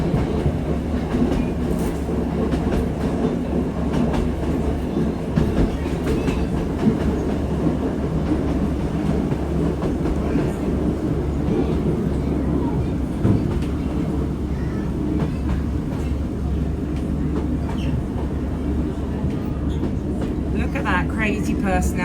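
A train on the Looe Valley Line in Cornwall, running along the river toward the coast, rumbles steadily with rhythmic clickety-clack from the wheels, heard from inside the carriage with continuous low drone.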